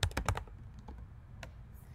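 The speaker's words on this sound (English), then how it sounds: "I'm going to just type in image fill" Quick run of keystrokes on a computer keyboard, a cluster of close clicky taps at the start, then a few sparse, softer keypresses in a quiet room.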